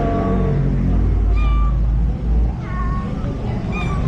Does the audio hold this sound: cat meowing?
yes